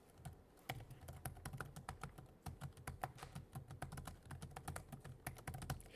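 Computer keyboard keys clack steadily as shell commands are typed in a zsh terminal, a close, quick run of irregular taps with brief pauses and no voices.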